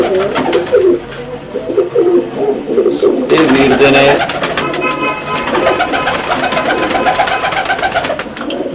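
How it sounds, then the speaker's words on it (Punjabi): Pigeons coo nearby in a loud, continuous, overlapping chorus of soft throaty calls, while someone talks over them. "ਜੋੜਿਆਂ ਵਾਲੇ ਕਬੂਤਰ, ਵੀਰ ਦੇ ਜਿੰਨੇ ਵੀ ਆ"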